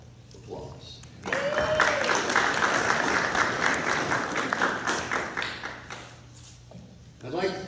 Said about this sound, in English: You should all give yourself a little applause.